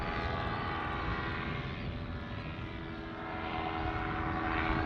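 A CORE 2 RC airplane flying in high winds with the throttle held open, its propeller and motor droning loudly and continuously, the pitch and intensity swelling slightly as it passes, with no talking.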